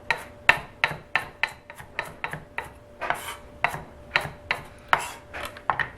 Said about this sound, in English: So just chop this up pretty fine